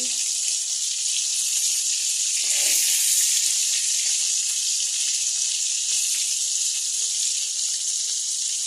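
Continuous loud sizzling of small river snakehead fish frying in hot oil, a steady crackling hiss that swells slightly partway through, with no voices.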